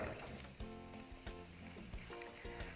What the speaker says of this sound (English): we're going to go ahead and stir these until the onions are soft